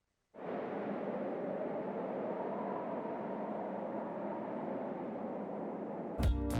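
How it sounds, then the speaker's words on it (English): Wind blows through a forest with no birdsong, a steady broadband rush that starts abruptly and holds at an even level, then ends with a brief louder burst. "there's nothing but the sound of the wind"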